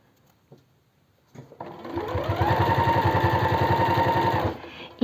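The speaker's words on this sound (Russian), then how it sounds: "И средний шов обязательно нужно прострочить двумя строчками для усиления качества строчки." A domestic sewing machine stitching the seam of a knit garment: a steady, fast mechanical rattle runs for about three seconds after brief handling noises, then stops, close and moderately loud, with no talking.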